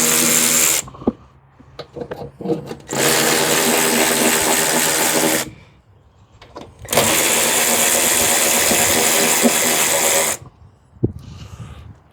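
An electric ratchet whirs in two long, loud, close bursts of steady buzzing motor noise, separated by short pauses with faint clicks and clatter around them.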